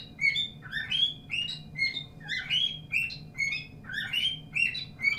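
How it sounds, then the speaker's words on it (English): Small bird chirping repeatedly and close, a steady run of quick bright tweets in rhythmic bursts over a low background hum. "God, I hate that bird."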